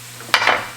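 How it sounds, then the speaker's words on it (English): Red peppers tumble into a hot pan of cooking chicken for lettuce wraps, a short sharp clatter and sizzle that flares up, then fades quickly. "Now we're gonna add in our red peppers"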